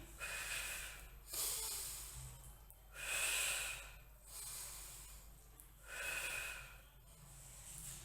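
Forceful exhalations during a resistance-band shoulder exercise at home, close and breathy, coming as a few long airy breaths at a regular pace with quieter pauses between them.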